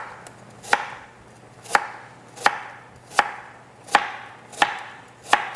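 A knife slices a pear flat into 3–4 mm pieces on a cutting board, seven crisp, evenly spaced chops about 0.7 seconds apart, close and clear with no talking.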